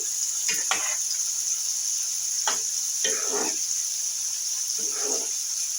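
Ghee is stirred into a cauliflower dish in a pan, three short bursts of scraping and sizzle separated by pauses, set against a steady high hiss.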